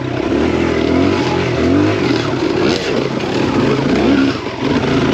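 A Kawasaki KLX140RF trail bike rides close behind a two-stroke dirt bike on twisty trails, with engines droning and revving loudly and continuously under heavy wind noise.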